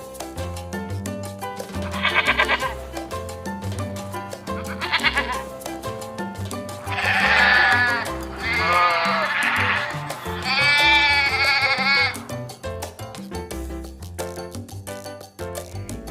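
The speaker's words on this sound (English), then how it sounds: "Band, in English, sheep." Sheep bleating over a steady background of music, with several wavering bleats rising out of the mix, each lasting a second or two.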